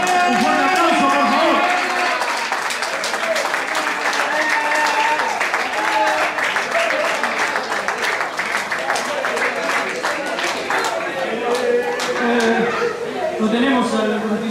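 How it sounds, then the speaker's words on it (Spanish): Loud applause from a bar audience at a live trio concert, dense clapping mixed with cheers, chatter and laughter, with voices talking over it throughout. "Un fuerte aplauso"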